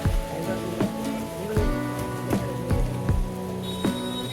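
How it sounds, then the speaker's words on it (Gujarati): Steady rain patters on a hard surface in a village, with a continuous hiss and a few sharper drips or knocks recurring over a low background hum. "વરસાદ થોડો ધીમો થઈ ગયો છે"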